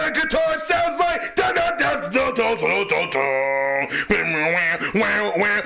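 A voice mimics an electric guitar, producing sustained, wavering tones with bends and vibrato, loud and close, in several phrases that swell and break off.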